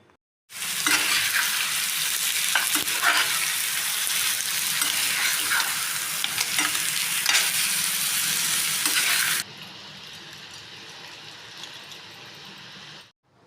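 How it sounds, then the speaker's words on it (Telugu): Crabs frying loudly in a pan of onion masala with curry leaves, a dense steady sizzle with occasional stirring clatter that drops to a softer simmer near the end. "ఇప్పుడు అయితే పీతలు వేస్తున్నాను ఇవి కూడా కొంచెంసేపు మసాలాలో వేగాలి ఎర్రగా"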